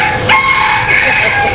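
Feather-legged chickens, hot and tired, cluck and crow close by in a short burst of loud, rising calls with a few softer clucks after.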